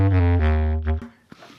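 A bass clarinet through a pickup with an impulse response on a Quad Cortex plays a sustained low reed tone with rich harmonics, a held note that shifts pitch once, then a short fading tail and a faint click.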